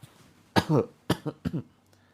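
Several deliberate coughs from one person nearby, a long double cough then three shorter ones in quick succession, in a quiet room.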